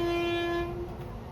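A train heard from inside a carriage, with a steady horn-like tone sounding for about a second before fading into the low rumble of the moving rail car.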